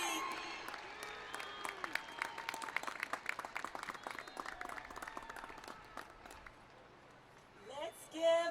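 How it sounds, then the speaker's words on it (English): Applause fills a 2023 commencement ceremony, a dense crowd clapping steadily for several seconds before fading, followed by a brief cheer or whistle at the end. "Let's give our 2023 commencement speaker one more round of applause."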